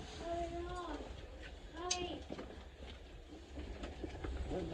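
An Avanti West Coast train rolls along the rails between Stoke-on-Trent and London Euston with a steady low rumble and a sharp squeal partway through, while people talk faintly nearby.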